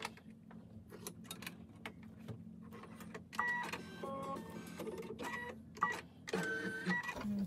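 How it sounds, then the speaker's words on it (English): A Brother Stellaire embroidery machine stitches out a design, giving a steady low motor hum under rapid mechanical ticking and clattering that grows busier partway through, heard close and fairly quiet. "It's going to stitch out."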